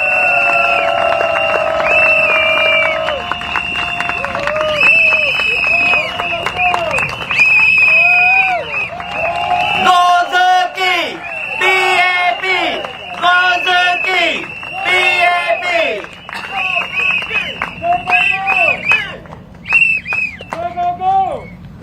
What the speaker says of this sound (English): Let's cheer for Sze Kee!